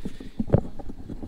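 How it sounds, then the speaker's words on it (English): Horses' hooves clip-clopping on a high country trail near Omeo, Victoria, a loose uneven run of close hoof strikes with one louder knock in the middle. "So you got the horses here."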